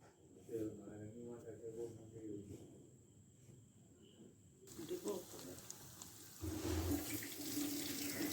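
Beef pieces dropped one by one into hot sunflower oil in a home kitchen for beef broast, giving a steady sizzling hiss that swells louder partway through, with a voice speaking over it.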